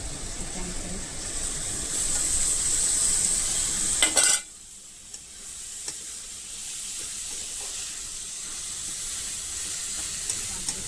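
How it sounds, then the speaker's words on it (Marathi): Corn kernels hit a hot pan with a loud hiss and sizzle that drops sharply to a quieter steady frying crackle, with faint stirring scrapes afterward. "आता आपल्याला हे टाकायचे आहेत मक्याचे दाणे"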